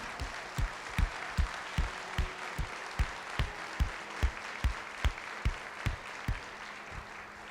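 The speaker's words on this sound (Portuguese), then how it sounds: "Aplauda ao Senhor." Church congregation clapping during a sermon, a slow steady rhythm of single in-unison claps, regularly spaced and fairly faint, heard over a soft room background.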